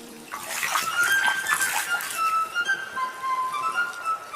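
A splash as an ant tumbles into a river, then a steady rush of bubbling, sloshing water lasting several seconds, fairly loud and close, with faint high tonal chirps threading through and no talking.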